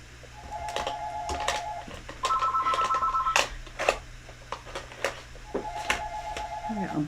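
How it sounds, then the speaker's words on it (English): A landline phone rings in bursts indoors during a craft session, its electronic warbling tones repeating three times across the stretch, with clicks and handling noises of supplies in between. "Why does the phone ring every time we're here on?"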